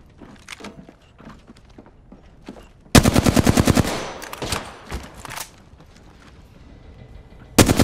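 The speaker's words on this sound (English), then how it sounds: "Bomb bots are shooting at me." Bomb bots firing in Apex, with light scattered taps and footsteps giving way to a loud, close burst of rapid machine-gun rounds, then sporadic thuds and a final sharp burst at the end.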